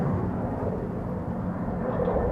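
A Finnair A350 airliner at Schiphol produces a steady, low, rumbling engine roar, moderately distant and unbroken over the short stretch, with no talk.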